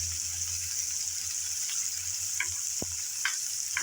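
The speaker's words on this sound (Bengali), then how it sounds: "উল্টিয়ে পাল্টিয়ে এই শুটকি ভালোভাবে ভেজে নিতে হবে, তার সাথে পেঁয়াজ আর রসুন।" Dried fish fries with onion and garlic in a small amount of oil, giving a steady, close hiss and sizzle with a few light scraping stirs.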